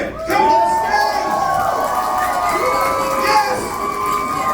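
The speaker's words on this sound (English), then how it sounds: "Keep those applause going for Michael Friedman" Comedy club audience cheering and shouting after a comic is called to the stage, a loud, dense crowd roar with whoops and raised voices running steadily throughout.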